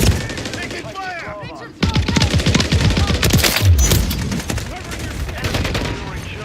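Video game firefight with rapid machine-gun bursts and single gunshots, loud and close, cutting off briefly and then resuming as a dense rattle, with radio-style voice callouts mixed in.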